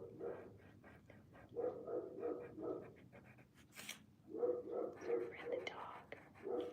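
A puppy snuffles and pants close by in short wet bursts, with a soft whimper, while someone speaks quietly over it.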